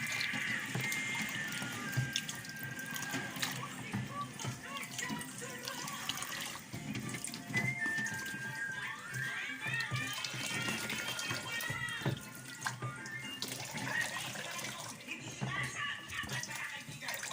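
Balut eggs are washed under a steady stream of running tap water, a continuous splashing rush with clinks and shifting flow, while people talk faintly in the background.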